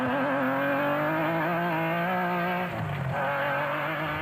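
A Nissan Hardbody rally truck races in the 2003 Sugarbelt 400 rally, its engine roaring loudly and steadily with rising and falling revs, a brief dip in pitch as it shifts or lifts, and no talk.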